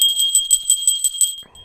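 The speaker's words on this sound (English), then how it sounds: "I love to hear that bell ring." A bell rung on a live fundraising radio broadcast rattles rapidly for about a second and a half, a bright continuous jingling that is close and fairly loud, then cuts off sharply with no talking.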